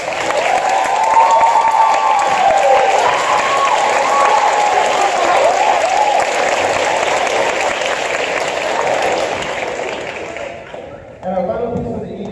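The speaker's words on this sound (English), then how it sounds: "Please applaud Mr. Alfonso Gutierrez." An audience at a school orchestra concert applauds after a cello performance. The loud, dense applause is mixed with crowd noise and cheering and lasts about ten seconds, then fades and stops, with a brief voice near the end.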